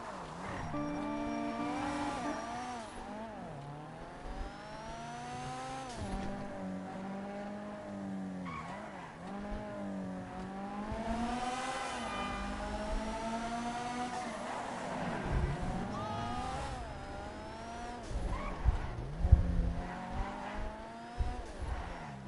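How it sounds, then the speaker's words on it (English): A car driving in the video game GTA Online, with engine tones rising and falling through gear changes, tyre squeal and skidding, continuous and fairly loud throughout. "So I'm bringing this vehicle over to the Los Santos Customs"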